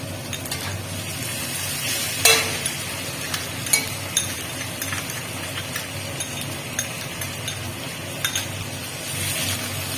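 Ginger and garlic fry in hot oil for a spiced tadka, giving a steady broadband sizzle throughout with a few sharp clinks and scrapes of a utensil against the pan.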